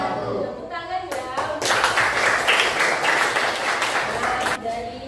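Classroom applause from a group of students, a dense burst of clapping lasting several seconds after a short spoken lead-in, loud and close, with voices briefly audible around it.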